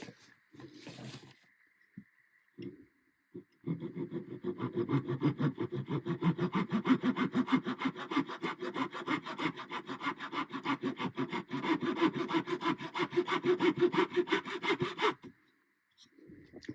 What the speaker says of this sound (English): with the saw cut I can move back to the way I prefer cutting it